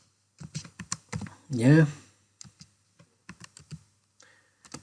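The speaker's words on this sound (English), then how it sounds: "So I'm going to type single quote, and I'm going to type this b lowercase" Clicky keystrokes on a computer keyboard in irregular bursts and short runs, close and crisp, with a brief spoken word in the middle.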